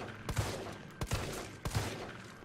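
Three loud, evenly spaced gunshots fired in Resident Evil 3, each a sharp crack with a short booming tail, alone over a quiet background.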